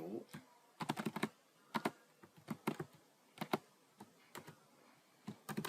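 Keys on a computer keyboard clack in short, uneven bursts of taps with small pauses between them. The typing is fairly quiet and close, and a soft voice is faintly audible underneath.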